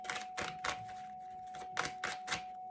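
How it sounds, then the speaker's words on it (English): Tarot cards being shuffled give quiet, crisp riffling bursts, mostly in quick pairs, over a steady faint hum in the background. "We're going to keep shuffling. We'll have that in the background."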